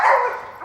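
A single short dog bark heard at a convention panel, loud and close, lasting under a second.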